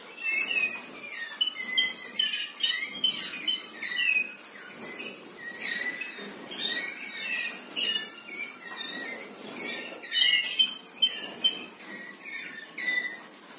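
A Malinois canary sings alone in a rapid string of bright chirps, trills and warbles that comes in repeated bursts at close range.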